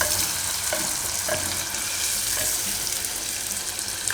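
Onions stir and fry in hot oil in a pot for matka masala khichdi, a continuous loud sizzle with faint spoon scrapes, close up and steady, with no talking.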